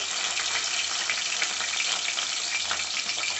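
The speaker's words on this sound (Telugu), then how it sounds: "ఆనియన్ పచ్చిమిర్చి వేసుకున్నాక కొద్దిసేపు గోలనివ్వాలండి" Onions and green chillies fry steadily in a pan for a tomato and fenugreek leaf curry, giving a continuous close sizzle with faint stirring scrapes and no voices.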